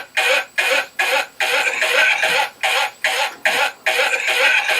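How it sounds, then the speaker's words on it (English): A person coughs again and again in a looped recording, harsh bursts of steady rhythm about twice a second separated by brief gaps, close and loud. "The old one didn't have the first cough and was just a perfect loop of the other coughs."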